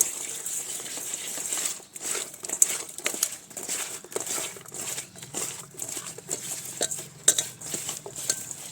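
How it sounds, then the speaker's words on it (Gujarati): Boiled potatoes mixed in a bowl with sugar, red chili, turmeric, coriander-cumin and lemon juice give soft, irregular scrapes, squelches and light clinks of a spoon, close up and quiet. "ચપટી લાલ મરચું હળદર ધાણા જીરું લીંબુનો રસ અને આ બધું આપણે સરસ રીતે મિક્સ કરી લઈશું"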